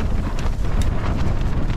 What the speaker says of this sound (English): I do wish this wind would